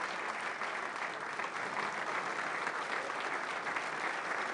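An audience at an Army combatives tournament applauds the champion, a steady wash of clapping from a crowd, moderately distant and unbroken throughout.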